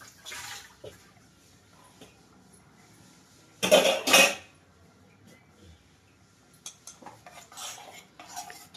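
Metal spoon scraping and clinking against a cooking pot while rice is mixed into water for vegetable pulao, with a loud burst of scraping in the middle and softer clatters before and after, no talking.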